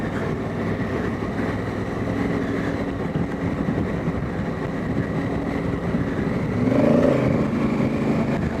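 Honda Africa Twin motorbike ploughing through sand on a bush dirt track, its engine droning steadily up close and surging louder as the throttle opens near the end.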